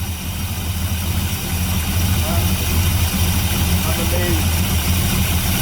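A 1973 Chevy Camaro split-bumper engine idles steadily after a cold start, having sat for at least 10 years, with a continuous low rumble throughout while a person speaks briefly over it.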